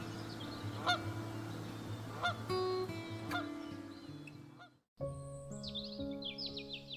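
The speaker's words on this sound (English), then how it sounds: "These pre-migratory gatherings can reach thousands of individuals and transform bays into noisy bird conferences." A large pre-migratory flock of geese gathers on a bay in autumn, giving a chorus of honks and calls at a distance over a steady low background drone.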